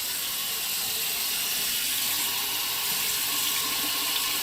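Hot water pours steadily from a kitchen tap, a continuous loud broadband rush with no break and no voices over it.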